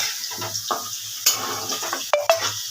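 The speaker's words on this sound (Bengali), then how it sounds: "আর একটু ভাজা হলে এই আলুগুলো যদি আমি এরমভাবে ভাজি" Potatoes fry in hot oil seasoned only with salt, with no turmeric, giving a steady close sizzle broken by several scraping stirs of a spatula and a sharp metallic clack near the end.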